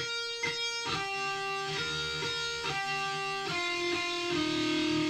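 Electric guitar plays a series of picked notes while unmuted lower open strings ring and buzz underneath, creating a muddy, cluttered wash of sound.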